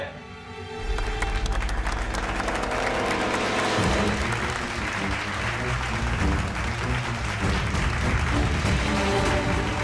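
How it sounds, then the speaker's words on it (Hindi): A large studio audience breaks into loud, sustained applause that builds quickly and carries on steadily, with dense rapid clapping and a music bed beneath it. "ताली बजाओ परछाई के लिए"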